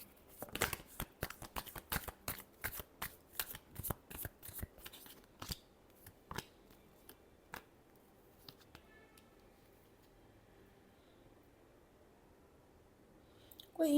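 Tarot cards being shuffled in a rapid run of crisp riffles and flicks over the first several seconds, then slowing to a few scattered taps before near silence and a brief bump at the end.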